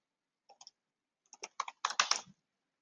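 Computer clicks come in a few quick bursts, a pair of faint taps followed by a louder cluster of rapid clicks close by in an otherwise silent room.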